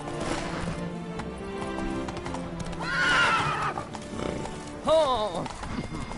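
A horse in The Witcher 3 video game clip-clops along at a steady gait and gives two loud whinnies partway through, close and clear over the hoofbeats.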